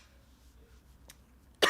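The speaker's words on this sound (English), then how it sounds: "I'm sorry. I can't stop coughing." A single sharp cough bursts out near the end after a quiet stretch, with a faint click just before it.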